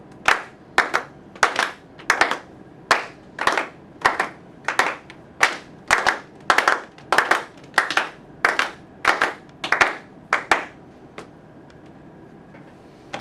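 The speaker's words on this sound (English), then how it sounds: "we're going to start with group 1 clapping, and then everybody else is patting their rhythm they have on their thighs" Rhythmic ensemble of one group clapping while others pat a rhythm on their thighs, in a music class; sharp, loud, evenly spaced bursts repeat steadily for about eleven seconds, then stop.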